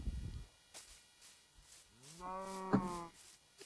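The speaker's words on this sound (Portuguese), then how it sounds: "As vacas estão aqui ainda." Cows mooing in the video game Minecraft: a low drawn-out moo with rising, harmonic-rich tone, followed by short faint bursts, clear and fairly near over a quiet background.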